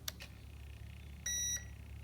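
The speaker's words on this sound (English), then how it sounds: "and you should hear another beep." RC drift car controller switched on, giving a single short electronic beep at moderate level over a faint steady room hum, preceded by a couple of light clicks.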